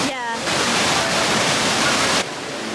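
Roaring waterfall at Ubud in Bali, a loud, steady broadband rush of falling water that fills the scene, with a brief voice at the start before the roar settles in.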